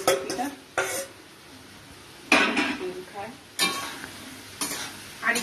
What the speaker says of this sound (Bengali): ফুলকপি আমি আর একটু ভেজে নেবো